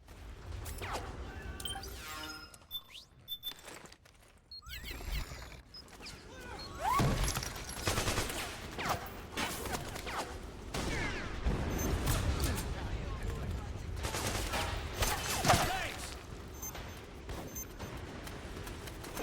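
Scattered gunfire and stray bullets crack through a Metal Gear Solid 4 battle, with sharp shots, crashes and mechanical clatter coming in irregular bursts under near-constant talk.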